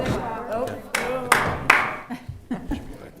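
A few sharp, separate hand claps ring out in a school committee meeting room, spaced about half a second apart, with voices talking around them.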